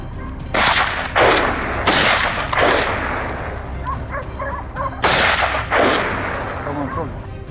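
Rifle shots during a wild boar hunt, several loud, sharp reports with short echoing decays, two early and close together and another later, with hounds barking faintly in between.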